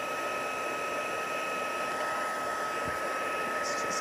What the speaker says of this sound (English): So let's just actually bring in our heat tool, and we're going to dry it.